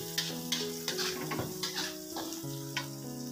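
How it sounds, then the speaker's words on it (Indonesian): Minced garlic and sliced shallots frying in a pan make a steady, loud sizzle. Periodic scraping clicks of stirring sit over a continuous hum. "Di sini aku goreng bawang putih cincang sama irisan bawang merah."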